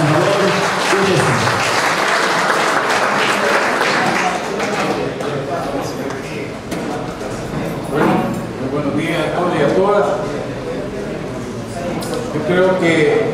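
Crowd applause at a municipal signing ceremony welcoming the mayor, sustained clapping throughout with a voice speaking over it.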